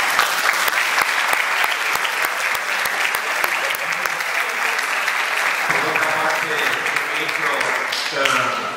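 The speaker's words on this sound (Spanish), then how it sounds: "Yo creo que nos merecemos un aplauso a los estudiantes" A university audience applauding students, dense continuous clapping from a large crowd that thins and fades toward the end, with a voice speaking faintly beneath it at the close.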